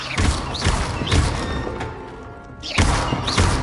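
Spell-casting effects from a Harry Potter video game, repeated whooshing bursts with low thuds and bright swishes, three loud impacts spaced across the stretch, no talk.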